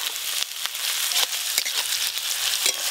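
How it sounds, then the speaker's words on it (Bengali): Chopped onions fry in hot mustard oil in a village kitchen, a steady close-up sizzle and crackle with occasional soft stirring taps, heard on its own without talk. "তেল গরম হয়ে গেছে, পেঁয়াজ কুচি দিয়ে দেবো। পেঁয়াজগুলো ভেজে নেবো আগে ভালো করে।"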